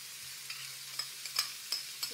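Onion and carrots sizzle softly in a frying pan while a utensil stirs them, giving a steady faint hiss broken by several light scraping taps.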